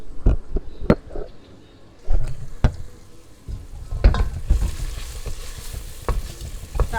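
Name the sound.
onion frying in oil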